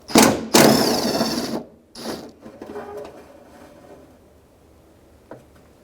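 A socket wrench with a 10mm socket works a bolt on the rear door of a 2007-2013 Acura MDX: loud rattling ratchet bursts up front, then fainter clicks and scrapes trailing off, with one last small tap.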